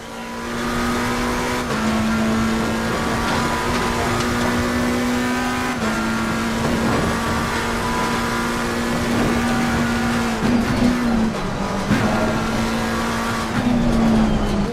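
Simulated race car engine from Assetto Corsa Competizione droning steadily and loud, with a sustained whining tone that dips and jumps at gear changes, including a late downshift near the end, plus faint tire noise.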